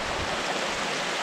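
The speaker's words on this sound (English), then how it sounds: "Look at this waterfall." A waterfall on Mt Hood's Timberline Trail roars as a continuous, dense wash of rushing water, loud and steady with no breaks or voices.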